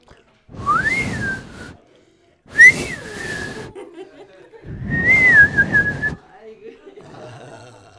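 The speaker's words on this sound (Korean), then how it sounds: "휘파람 불어봐요." A person whistles three short, rising-then-falling tunes, each about a second long with pauses between. Quiet laughter and chuckling fill the gaps.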